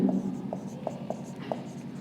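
Marker or chalk strokes on a classroom board during a Hindi maths lesson, a series of short taps and scratches roughly every half second, heard up close under a teacher's speech.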